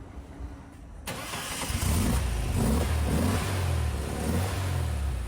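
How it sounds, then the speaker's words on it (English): A classic Porsche 356 engine cranks and catches after a second of quiet, then settles into a close, rumbling idle with several throaty revs rising and falling. "じゃあちょっと一回エンジンかける。"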